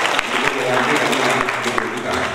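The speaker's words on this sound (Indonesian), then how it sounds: "Tepuk tangan buat kita." Audience applause in a university hall at a professor's inauguration ceremony, a continuous dense clatter of clapping at fairly strong level from start to finish.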